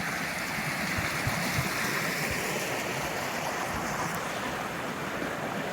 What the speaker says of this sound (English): that's a lot of water coming through here